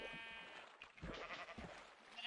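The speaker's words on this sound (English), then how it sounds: "Hear that sheep." A video-game sheep gives a couple of short bleats in a quiet virtual farm setting, faint and alone with no talk over them.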